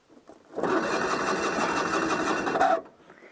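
A Citroën 2CV engine cranks on a cold morning, a steady mechanical whirring churn lasting a couple of seconds at close range, stopping abruptly without catching.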